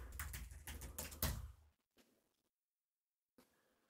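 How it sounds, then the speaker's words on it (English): Fingers typing a password on a computer keyboard at a Linux login screen, with a quick run of close keystrokes followed by silence and one final tap. "So I can type my password."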